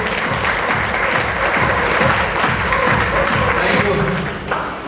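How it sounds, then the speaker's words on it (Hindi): An audience claps loudly and steadily for a team at a gold recognition ceremony, dense applause filling the room without a break, with a voice faintly under it. "तो मैं चाहता हूँ कि सारे लोगों के लिए जोरदार ताली।"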